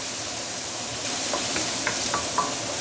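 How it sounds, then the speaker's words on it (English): Garlic sauteing in a pan under a running cooking hood for braised chicken, giving a steady broadband sizzle with a few faint stirring clicks near the end, no voices. "Let's saute this for at least a minute or 2 before we continue."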